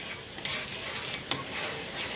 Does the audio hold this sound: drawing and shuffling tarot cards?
no